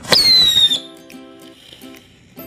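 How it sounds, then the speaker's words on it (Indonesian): A rocket firecracker fired from a Hot Wheels toy car lets out a loud, shrill whistle that slides downward for under a second, then fades into faint crackles and low background noise. "Ini mercon roket dengan mobil-mobilan."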